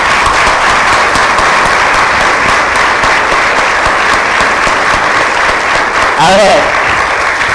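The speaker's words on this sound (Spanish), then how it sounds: "Un aplauso por haber dicho lo que dijiste" A lecture audience at an economics talk fills the room with loud, continuous applause for several seconds; near the end a voice speaks briefly over the clapping.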